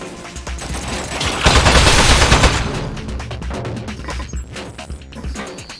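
Turret gunfire in Aperture Desk Job, a loud stream of rapid shots that swells into a dense burst before breaking into scattered sharp cracks and impacts.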